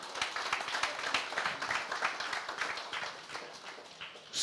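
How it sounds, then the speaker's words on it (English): A crowd applauds steadily at a police recognition ceremony luncheon in the Virgin Islands, dense clapping from many hands at moderate volume, fading slightly toward the end. "Please give them a round of applause."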